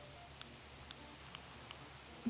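Soft rain ambience in a room-decorating video game, a low steady patter with a few faint drips. The whole track stays quiet, with no one talking.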